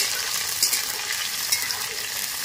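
Sliced onion frying in hot oil for a local chicken curry, a steady close sizzle with faint stirring scrapes.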